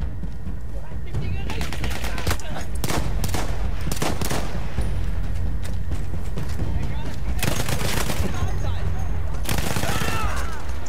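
Rapid, dense gunfire in Battlefield 1, fired in a dark area, with repeated loud bursts of automatic shots layered over constant battlefield noise for the whole stretch.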